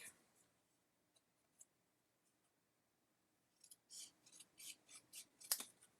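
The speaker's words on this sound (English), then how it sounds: "And I can use my scissors." Scissors snip during crafting work with kits: a few isolated clicks at first, then a quick, close run of crisp, quiet cuts near the end.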